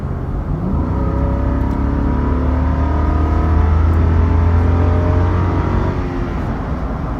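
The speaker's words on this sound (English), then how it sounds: "hit the gas right now so you can hear this engine" A Lexus LX570 SUV's 5.7-litre V8 engine revs hard and holds a loud, steady roar, its pitch climbing at the start and settling into a sustained drone with no talking.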